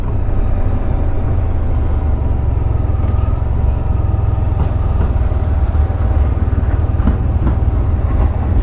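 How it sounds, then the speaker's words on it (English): A Blackpool tram passes close by with a loud, steady low rumble and rolling rail noise, faint clicks of wheels over track joints recurring through the pass. "there's your tram."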